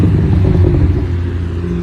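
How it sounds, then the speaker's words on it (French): BMW 135i rolling back slowly at a track session with a low, steady engine rumble, loud and close, holding an even drone without revving and no talk. "Le 135i qui revient doucement pour une fois."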